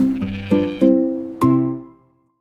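A sheep bleats in four tonal, wavering calls, close and loud, each one ringing briefly before fading into silence.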